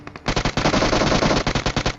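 Video game shootout gunfire: a close, loud burst of rapid automatic fire rattles almost without a break, then breaks into shorter, evenly spaced shots at the end.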